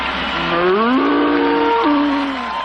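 A big bull moos in one long, loud, drawn-out bellow that shifts pitch partway through and fills the whole moment alone, with no talking over it.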